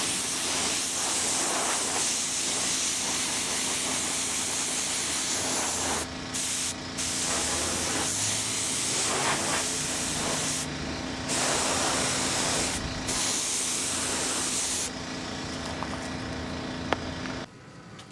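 Spray paint hisses from an aerosol can in a long, steady near blast, broken by a few short pauses. The can holds small ball bearings, and a faint tone hums beneath the spray.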